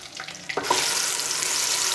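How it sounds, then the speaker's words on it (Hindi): Onion, tomato and garlic paste fries in ghee for chicken karahi, a soft stir leading into a loud, steady close sizzle that fills the rest of the moment with no voices. "इसको अच्छी तरह भून लेते हैं ताकि अच्छी तरह जो घी छोड़ जाए"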